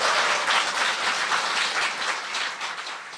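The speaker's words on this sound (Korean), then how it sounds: "박수 부탁드립니다." Studio audience applause on a Korean political talk show, sustained dense clapping that stays loud and even throughout, with no voices over it.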